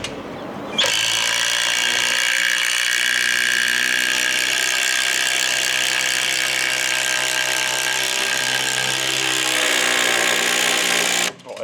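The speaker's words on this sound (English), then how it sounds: "trying to drive in some 150mm bugle screws" A Ryobi impact driver hammers long 150mm bugle screws in one sustained, loud, dense rattling burst lasting about ten seconds, starting abruptly and cutting off at the end.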